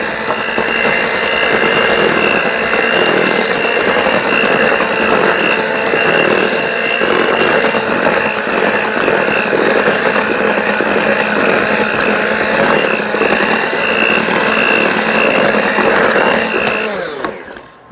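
A stand mixer runs steadily on slow, mixing muffin batter, a loud continuous mechanical whirr and rattle that holds for the whole stretch and then winds down at the end.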